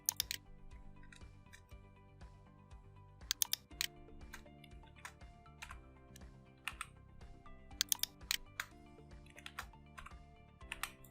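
Typing on a computer keyboard while adding line breaks in JavaScript code, a quiet run of irregular key clicks with a few sharper, louder keystrokes, close up.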